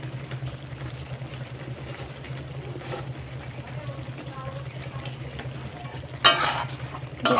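A Bengali catla fish head dish is stirred in a pan, with soft scraping and faint sizzling under a low steady hum, then a louder clatter near the end.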